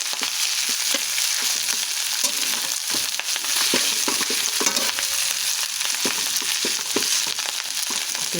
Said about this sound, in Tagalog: Ilagay na po natin yung ating kanin. Fried rice tayo.